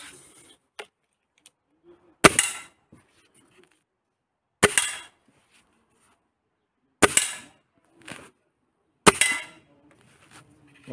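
A Gamo Maxxim IGT Replay 10 nitro piston .177 air rifle fires four sharp, loud shots at a woodland range, spaced a couple of seconds apart, with small clicks and handling noises between them.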